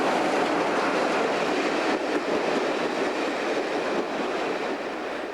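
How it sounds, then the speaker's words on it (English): A passenger train hauled by a Class 47 diesel locomotive rumbles past nearby in Wales, a steady loud roar of diesel engine and wheels on rails that slowly fades as it moves away. "Here comes our Class 47 powered train on its way out to Holyhead."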